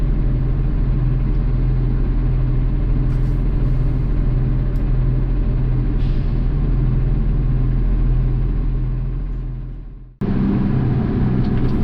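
Garbage trucks rolling into the depot yard at day's end, a continuous low diesel rumble close by that cuts out abruptly, then resumes with a lighter idle.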